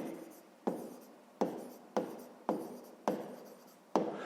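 A pen scratches across paper while numbers are written down for a sixth-grade maths exercise, in about seven short, close strokes at a quick, uneven pace, each with a sharp start that quickly tails off.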